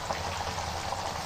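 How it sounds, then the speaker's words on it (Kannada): Fish frying in hot oil over a medium flame, a steady dense sizzle and bubbling that stays even and close throughout with no talking. "ನಾನು ಒಂದೊಂದೇ ಮೀನನ್ನ ಎಷ್ಟಾಗುತ್ತೋ ಅಷ್ಟು ಮೀನನ್ನ ಎಣ್ಣೆ ಒಳಗಡೆ ಹಾಕಿ ಫ್ರೈ ಮಾಡ್ತಾ ಇದ್ದೀನಿ."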